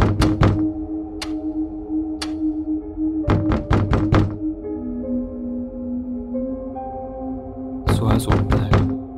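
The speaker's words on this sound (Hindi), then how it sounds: "कोई तो ऐसा है जो लगातार दरवाजा खटखटा रहा है।" Knocking on a door late at night in a horror story, coming in quick clusters of hard raps separated by pauses, set against a low sustained musical drone.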